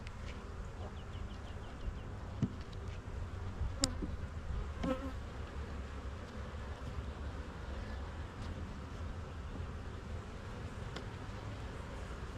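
Honey bees buzzing steadily around an open hive during a spring inspection, a dense continuous drone with a few louder individual bees passing close.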